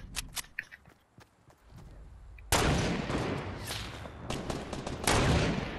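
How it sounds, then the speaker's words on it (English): Rapid gunfire from a hand cannon in a Fortnite match, starting with a few sharp scattered shots and then breaking into a loud, dense burst of firing and impacts that carries on to the end. "I'm getting hit with a hand cannon."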